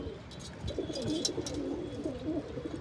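A domestic pigeon cooing close by in a soft, repeated low warble, steady over a quiet background.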